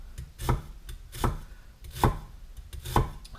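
A knife slices an onion thin, about an eighth of an inch at a time, with four sharp, evenly spaced chops against a cutting board, close and distinct, no talking.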